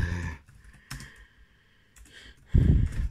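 Computer keyboard typing: a few scattered clicks and a brief burst of key presses, fairly close, with no voice present.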